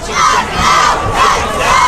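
Roaring stadium crowd at a football playoff game, a dense, steady wall of cheering that swells and surges in waves, loud and enveloping with no distinct single voices.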